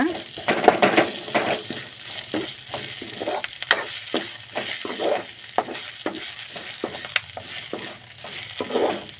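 Drumstick leaves sauté in oil in a pan, with a steady sizzle under repeated scraping and stirring strokes close by, plus occasional clinks of a utensil against the pan.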